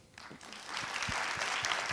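An audience in a hall breaks into applause, the clapping building from a thin start into a fuller, even wash of many hands within a couple of seconds.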